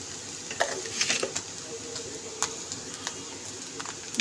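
Chow mein frying in a pan gives a faint, steady sizzle broken by scattered light clicks and scrapes of stirring, close by with no voices.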